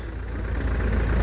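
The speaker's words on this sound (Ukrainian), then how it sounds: "мотор працює рівненько" A 2005 BMW 5 Series engine idles steadily with a low, even rumble, close and continuous throughout, with no voices.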